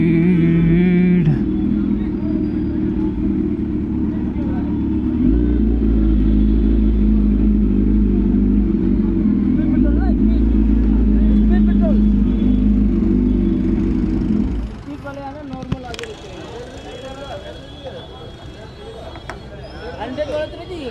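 A Kawasaki Z900 motorcycle pulls away hard as the clutch is released, its engine roaring loud and close for many seconds before dropping off, with people talking over and after it.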